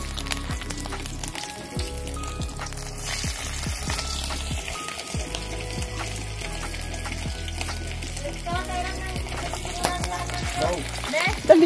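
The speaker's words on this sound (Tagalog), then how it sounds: "Ayan na po, mainit na mantika." Food sizzles in hot cooking oil on a Boracay beach outing, with a steady crackling fry running throughout amid clinks, stirring and other kitchen handling noises.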